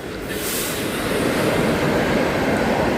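An express train rumbles steadily past up close, a loud continuous roar of wheels and carriages on the rails.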